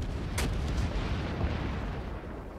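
Naval guns boom in World of Warships with the Takao cruiser, a low rumbling blast with a sharp report near the start, followed by a sustained dull roar and further muffled thuds, fairly loud and without talk.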